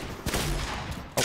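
Shotgun blasts in the video game Fortnite: a sharp loud burst near the start, a sustained rattle of fire, then another heavy blast at the end, all close and dense.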